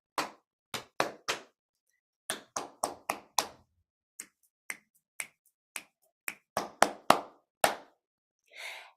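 Body percussion in a music lesson: crisp patting, clapping and finger snaps in a steady repeating rhythmic pattern, close and distinct, with short silent gaps between phrases.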